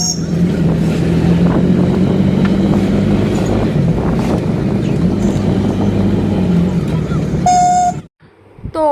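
Steady engine drone and road rumble from an auto rickshaw ride toward Garia, loud and continuous with wind buffeting, a brief horn-like tone near the end before the noise suddenly drops away.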